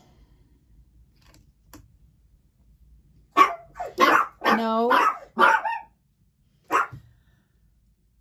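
A dog barks several times in quick bursts, close and loud, followed by one more bark after a pause; a voice briefly speaks.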